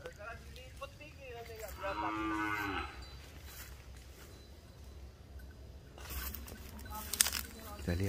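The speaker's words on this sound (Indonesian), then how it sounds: "proses penangkapan sapi." Semi-wild cattle low and moo twice while being caught after Eid prayers for the qurban sacrifice, with people talking outdoors and some rustling and knocking near the end.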